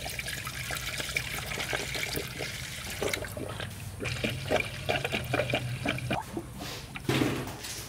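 Water Wetter coolant additive pours and glugs steadily into the cooling system opening of an LS3-engined Mazda Miata, with trickling and splashing plus a few clinks and taps along the way.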